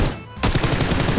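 Gunfire from an AWM sniper rifle in PUBG Lite: a hush and then a loud, sharp report, with crackling, rumbling echo trailing off and continuing to the end.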